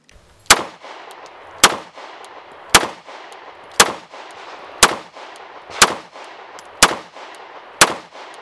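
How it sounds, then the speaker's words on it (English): A Girsan Witness 2311C pistol fires at the range, eight sharp, loud shots spaced about a second apart, each with a short ringing decay and nothing else in between. "Taking the Girsan Witness 2311C out to the range"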